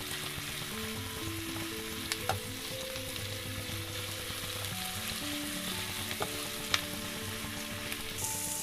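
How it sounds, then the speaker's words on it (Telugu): Onions and green chillies frying in a pan for pav bhaji, a steady soft sizzle with occasional sharp taps of a spoon over a quiet background hum. "ఉల్లిగడ్డ కూడా వేసుకుందామండి కొద్దిగా ఫ్రై అవ్వగానే పచ్చిమిర్చి వేసుకోవాలండి"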